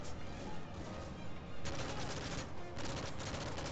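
Dense, rapid shotgun fire and other gunfire crackle in Call of Duty Modern Warfare 3. The shots come in continuous bursts with brief dips, close and loud, with no speech.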